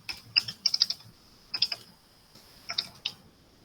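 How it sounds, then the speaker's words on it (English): A computer keyboard is typed on in short, quiet clusters of crisp key clicks separated by pauses, with no voices present. "let me type ก่อน so that I can see it clearly when I type"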